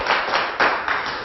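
A few rhythmic claps sound close by during a lecture on laughter. There are roughly four or five claps, each short and evenly spaced.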